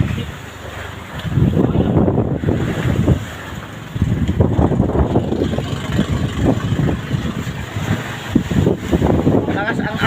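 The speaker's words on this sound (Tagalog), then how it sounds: "Malakas ang alon yan mga kasangga at malakas din ang hangin." Strong wind buffets the microphone on a small boat at sea, with rough waves surging in loud, rolling bursts; someone talks over it.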